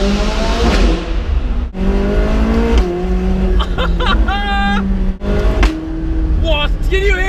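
McLaren 675LT Spyder exhaust echoing inside a tunnel, loud engine revving with sharp crackles and pops between rising and falling revs, up close with some speech over it.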